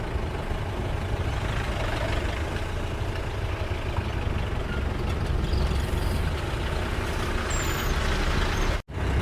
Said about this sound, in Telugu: బస్సులు చూడు, మొత్తం టూరిస్ట్ బస్సులే